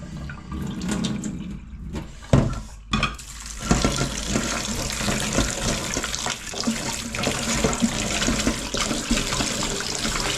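Tap water runs steadily into a drainer while beans for githeri are rinsed a second time, the splashing broadband and continuous with a few louder clatters and gurgles early on.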